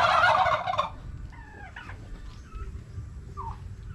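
A free-range turkey lets out a loud, rapid gobble up close, followed by fainter bird calls and chirps over low outdoor rumble on a farm with piglets.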